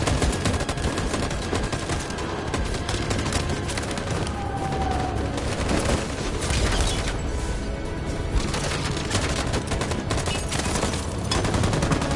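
A dense, loud volley of gunfire rolls on continuously after an order to fire, with overlapping shots, booms and crashes forming a sustained battle din.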